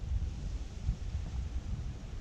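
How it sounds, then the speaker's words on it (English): Low rumbling wind buffets the microphone outdoors, a steady gusty roar with no voices. "it's been so windy, it's pretty much blowing the leaves everywhere"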